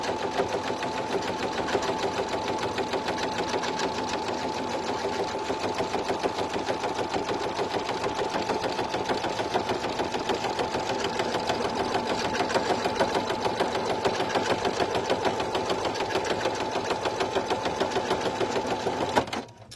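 An embroidery machine stitches a placement line for clear vinyl, a steady close whirring hum with rapid needle chatter running unbroken for nearly twenty seconds before stopping abruptly at the end.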